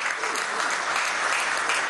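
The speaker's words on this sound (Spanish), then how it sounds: "Un aplauso a la explicación de este trabajador." Audience applause at a Venezuelan government event, a dense, sustained wash of clapping from a large crowd, steady and loud throughout.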